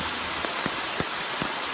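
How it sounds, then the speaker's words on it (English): Heavy rain pours down during a city downpour, a dense steady hiss with a few distinct drips and splashes standing out, loud and continuous with no talk. "But here's what it looked like during the downpour earlier this month."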